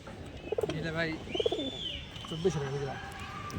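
Pigeons, including racing and fancy breeds, cooing in repeated soft warbling phrases close by, with chirps and other bird calls and someone talking intermittently over them.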